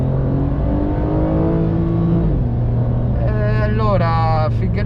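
Porsche 911 Carrera 4 (992) with 385 hp, its engine droning steadily from inside the car, rising in pitch as revs build, then dipping and climbing again in quick gear changes, with people talking over it.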